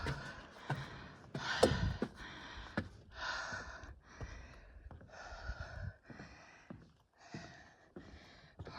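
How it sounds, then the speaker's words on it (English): Heavy, labored breathing of a hiker on a steep section of the Appalachian Trail, close and quiet, with repeated gasping inhales and sighing exhales in an uneven rhythm. "pardon my breathing"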